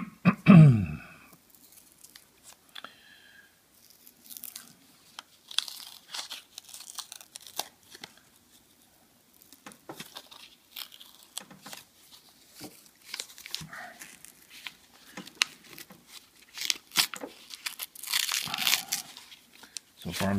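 A paper roll of Washington gold dollar coins torn open: close, crisp bursts of tearing and crinkling paper in irregular spurts, with quieter pauses between handling.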